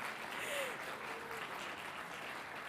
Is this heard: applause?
yes